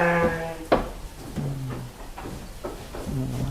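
Sheep bleat on a farm in a few separate calls, the first loud and close, later ones shorter and softer, with knocks and shuffling between them and no talk.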